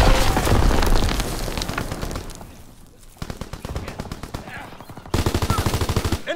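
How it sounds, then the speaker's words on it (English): A fighter plane strafes with machine guns in a WWII video game, firing long, dense, loud bursts of rapid fire over rumbling explosions, with a hard, fast volley at the end. "Fighter pilot inbound, strafing the target!"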